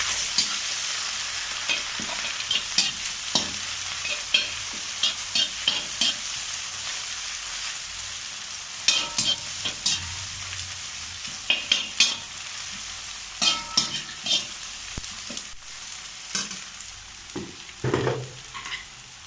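Tomato and carrot stirred in a frying pan while cooking egg noodles, a soft continuous sizzle broken by repeated scraping and clinking strokes of a utensil, close and without talking.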